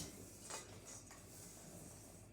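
A utensil stirs Maltesers and digestive biscuits into a slice mixture in a bowl, making faint scraping and clinking sounds early on that fade into quiet rustling, close and soft.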